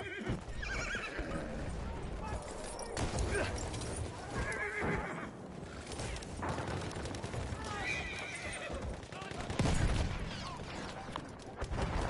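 A horse in the video game Battlefield 1 whinnies loudly amid clip-clopping hooves and mechanical clatter, while a player talks over the action.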